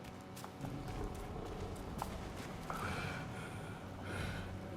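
Horse hooves in the video game Black Myth Wukong, a rhythmic clip-clop of a moving horse with occasional snorts over a steady game ambience, no speech.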